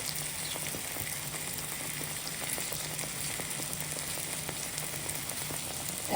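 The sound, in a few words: tomatoes sautéing in masala for mutton ball curry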